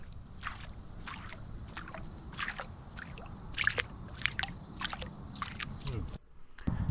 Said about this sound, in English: First one is to splash the water.